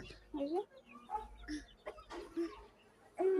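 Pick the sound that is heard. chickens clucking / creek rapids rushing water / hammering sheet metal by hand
chickens clucking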